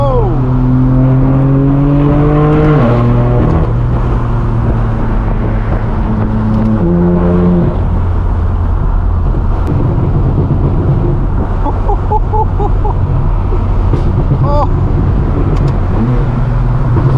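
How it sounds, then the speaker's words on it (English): A straight-piped BMW M4 F82 roars while driving, its exhaust climbing in pitch through several gear changes with rising and dropping tones, then crackles and pops, loud and close throughout. "God, the M4 is sounding phenomenal today."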